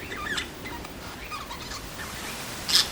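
Birds call outside a window, heard through the glass as sparse, faint, brief chirps scattered over a quiet indoor background.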